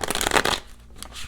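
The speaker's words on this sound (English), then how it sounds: "I've been trying out this new shuffling technique" Tarot cards shuffled by hand in a quick riffling burst, close and crisp, fading into a brief softer flutter of cards.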